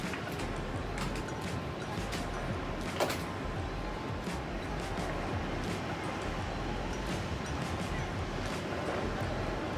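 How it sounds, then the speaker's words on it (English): Ocean waves at Santa Barbara make a steady, broadband wash of surf with faint breeze and a few small knocks over it, continuous and fairly close with no distinct breaks. "Listening to the sounds of the waves."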